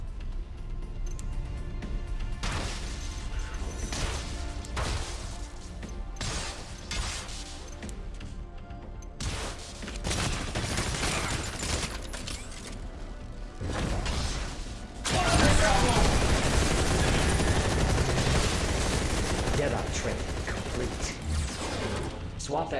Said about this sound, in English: Fire Deadeye's cluster salvo through the wall and eliminate the raptors.